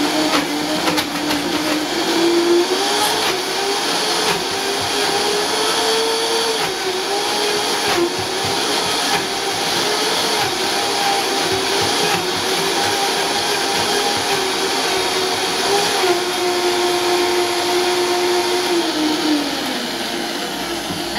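A blender whirs continuously at full power while mixing a dairy-free, soy-free chocolate smoothie, a loud, steady motor whine with slight pitch shifts as the contents churn, heard alone without talk.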